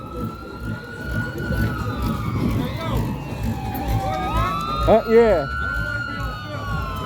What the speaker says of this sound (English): right now you got an ambulance coming down the street too